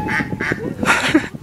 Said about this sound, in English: I hear ducks.